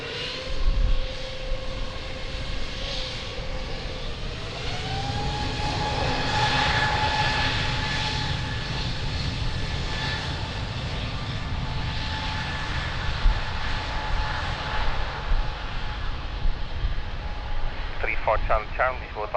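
An airliner takes off from runway 02 at Lisbon Airport, its engines giving a loud, sustained roar with a whine that climbs in pitch partway through, while voices come and go in the background.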